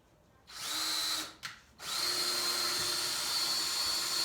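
A power drill drives a screw into a wall stud in a garage while wire shelves are installed, a close, loud steady whine with a brief stop and restart before running on.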